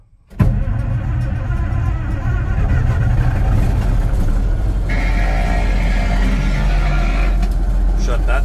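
A Massey Ferguson 750 combine engine cranks and catches at once, then settles into a loud, steady diesel rumble with a rising whine partway through, running close and continuously in the cab.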